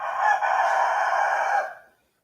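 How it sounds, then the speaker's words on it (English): One loud, close rooster crow holds steady for well over a second and then fades out to silence. "Sitting there crowing at the top of your goddamn fucking mind."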